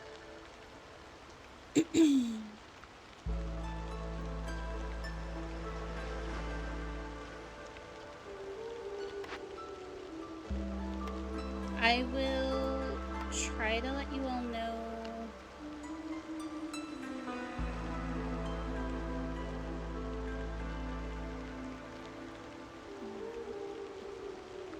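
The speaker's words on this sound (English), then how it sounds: "I love the fact that it's constantly raining. It's one of my favorite sounds" Steady rain patters throughout in the game A Viceroy's Duty, layered under sustained musical tones, with a voice speaking briefly over it near the end.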